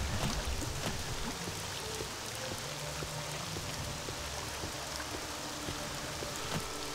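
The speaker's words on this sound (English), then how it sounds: "And intense rain too." Intense rain pours down in the video game Morrowind, a loud, constant wash of falling water with scattered sharp drop ticks, dense and unbroken from start to finish.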